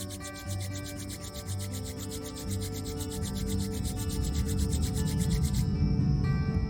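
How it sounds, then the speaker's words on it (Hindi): Both palms rub together during a yoga-for-the-ears routine, a soft, steady, continuous friction sound, close and quiet over a faint tonal background with no talk. "दोनों हाथों को रब करेंगे वो आपस में"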